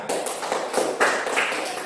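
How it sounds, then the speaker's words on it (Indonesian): Schoolchildren in a classroom clap for a classmate, a short ragged patter of hand claps, close and fairly loud, with no talk over it. "tepuk tangan dulu temannya"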